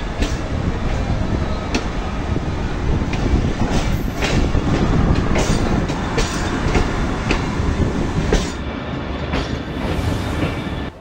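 A train rumbles loudly and steadily at Hasan Abdal railway station, with wheels clacking rhythmically over rail joints throughout and a heavy, close roar that eases slightly near the end.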